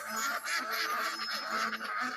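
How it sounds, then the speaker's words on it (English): A duck gives a rapid series of loud, close, nasal quacks in an uneven rhythm, with no other sound around it. "Ducks can swim, ducks can fly, and ducks can walk on land."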